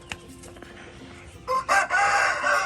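A rooster crows loudly and close by in the second half, a long strained call after some quiet background rustling.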